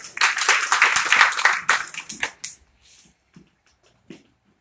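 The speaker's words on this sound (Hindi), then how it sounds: "तालियां हो जाए।" A burst of audience clapping at a Hindi income presentation rises loudly for about two seconds, then breaks off abruptly into near silence with a few stray claps.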